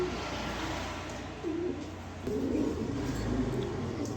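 Soft pigeon cooing from a male pigeon of a Dragon-line show breed, low murmuring coos repeating close by over steady background noise, with no talking.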